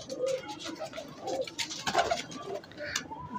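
Pigeons coo softly at close range, several overlapping throaty calls repeating through the moment against a faint background murmur.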